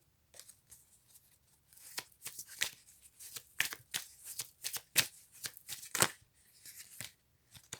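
A deck of guidance cards is shuffled by hand, close and crisp, in a series of irregular riffling and sliding bursts that grow busier toward the end, with no talking.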